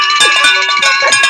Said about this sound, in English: Ring my little bell.